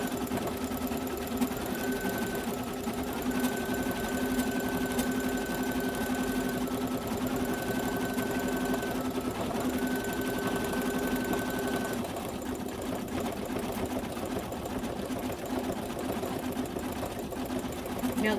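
Embroidery sewing machine stitching a design: a continuous loud, fast mechanical whir and needle chatter running steadily throughout, with a faint intermittent beep-like tone in the first two thirds.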